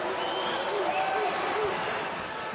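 Basketball arena crowd at Hinkle during a Butler vs UConn college game, a steady, loud roar of voices and scattered cheering filling the background as a voice talks over it.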